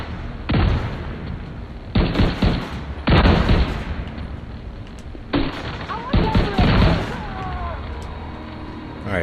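Gunfire and a grenade blast in The Division 2, heavy bursts of shots and booms coming in several loud clusters with short pauses between, plus some faint whistling tones toward the end.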